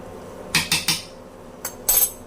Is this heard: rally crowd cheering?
no